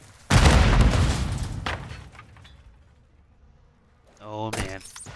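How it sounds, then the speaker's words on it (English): A grenade detonates in Call of Duty: Modern Warfare 2, a sudden loud blast that rings out and decays over a couple of seconds, followed by quieter game sounds and a brief voice near the end. "There was a nade."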